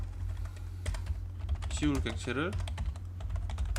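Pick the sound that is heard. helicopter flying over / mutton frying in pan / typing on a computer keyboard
typing on a computer keyboard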